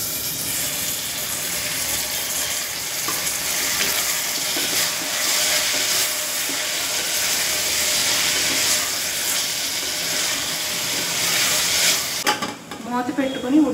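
Chopped tomatoes sizzle and hiss in a hot pan while tomato rice is being cooked. The loud, continuous frying runs steadily for about twelve seconds, then cuts off abruptly, leaving a quieter tail.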